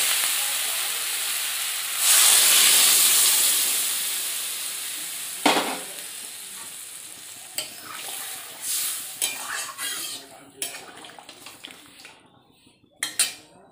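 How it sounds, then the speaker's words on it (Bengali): Ginger paste, cumin, chilli and turmeric hit a hot pan with a burst of sizzling that gradually fades, followed by scattered clinks and scrapes of a utensil stirring against the pan. "আদা বাটা জিরে লঙ্কা হলুদ গুঁড়ো দিয়ে একটু ভেজে নিলাম।"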